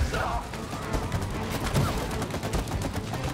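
Rapid gunfire in the co-op game It Takes Two crackles in dense overlapping bursts throughout, busy and fairly close, with no talking during it.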